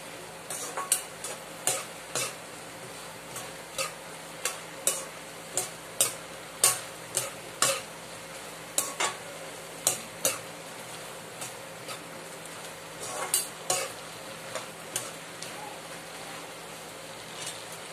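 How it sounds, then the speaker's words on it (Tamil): Tomato and onion sauté for tomato chutney with a soft continuous sizzle, punctuated by frequent sharp spoon scrapes and taps against the pan in an irregular rhythm, close and clear, with no speech. "நல்லா கொஞ்சம் அப்படியே விட்டுருங்க அப்பதான் கொஞ்சம் நல்லா வதங்கும்"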